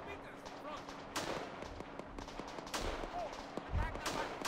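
Rifle shots fired by the player in a Second Korean War alternate-history war video game, several sharp cracks spaced a second or so apart amid distant battle noise, with a voice talking over them.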